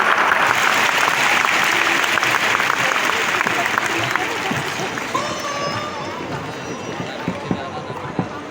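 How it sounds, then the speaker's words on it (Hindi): A large crowd of students and teachers at a ceremony in Thyagaraj Stadium, Delhi, applauds vigorously, a broad roar of clapping that gradually thins and fades toward a few scattered claps near the end. "एक बार जोरदार ताली आप अपने लिए"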